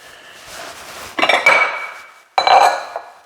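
Two ringing clinks of one bowl being set into another bowl, the first clatter followed by a sustained ring, then a second sharp clink a second later, close and clear with a soft rustle before.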